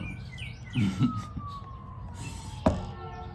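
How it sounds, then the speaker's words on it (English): A siren wails faintly in the distance, its pitch sliding slowly downward, with a few brief clattering knocks nearby. "Come on, man, police sirens and shit."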